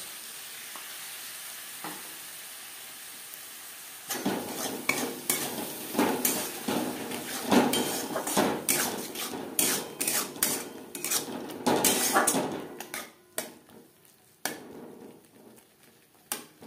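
Onion, garlic, salt, turmeric, spice masala and tomato paste stirred in a hot pan for egg curry, sizzling steadily while a spoon scrapes and clinks against the metal in repeated close strokes after a quiet start.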